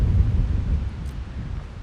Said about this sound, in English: Sorry, it's real windy.